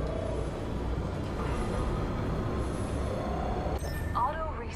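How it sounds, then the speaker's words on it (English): A moving train in the Apex Legends Winter Express mode rumbles steadily throughout, a dense continuous roar with faint squeals near the end. "Train's moving."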